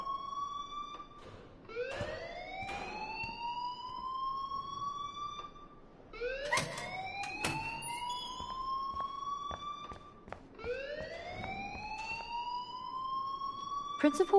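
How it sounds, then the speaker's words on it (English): A loud rising electronic alarm from the Life is Strange video game repeats in sweeping upward wails about every four seconds, with sharp clicks and taps between the sweeps. "please turn off that alarm since that's your job."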